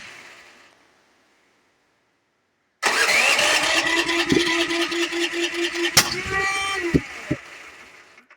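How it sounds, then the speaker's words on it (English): A Duromax 13000 dual fuel generator cranks and starts up loudly nearby, its engine running unevenly with sharp backfire pops near the end before it winds down. "I don't know what's causing that backfire"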